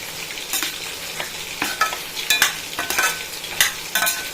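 Mutton chukka for Chettinad-style varuval sizzling in a pan while a spoon scrapes and stirs it in uneven strokes, with sharp clatters against the metal over a steady frying hiss; no voices.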